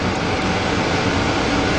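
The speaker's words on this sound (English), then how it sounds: "the noise you hear in the background is actually the air rushing through our clean room environment here" Steady, loud rushing air fills a hard drive repair clean room, a continuous broadband whoosh with no talking or breaks.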